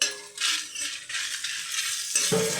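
Chana dal, chillies and black pepper dry roasting together in a pan, giving a steady crackling sizzle with soft stirring scrapes and a brief clink near the end, close and alone.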